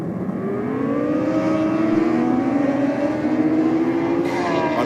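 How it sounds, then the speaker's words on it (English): A two-stroke drag bike runs at a drag strip bike night, its engine wailing and rising in pitch as it accelerates. The sound is loud and sustained and stays steady for several seconds. "I can hear the two-stroke on the track mics"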